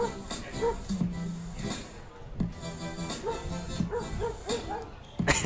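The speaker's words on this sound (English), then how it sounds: "And you hear the dogs." Dogs barking and yipping in the crowd at a Medford Rogues versus Portland Pickles minor-league baseball game, short scattered barks over stadium crowd noise and an announcer's voice.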